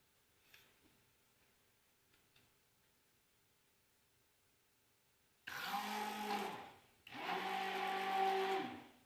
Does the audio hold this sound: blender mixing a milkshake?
yes